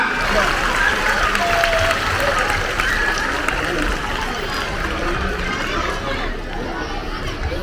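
Audience applause for senior kindergarten pupils' performance at a school event: dense, steady clapping that fills the whole stretch with crowd chatter mixed in, and it thins slightly toward the end.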